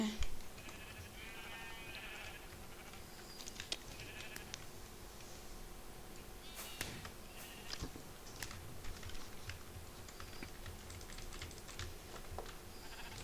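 Sheep bleating in a Minecraft arcade game, short scattered bleats mixed with rapid computer keyboard clicking and clicky game noise, fairly quiet and busy throughout.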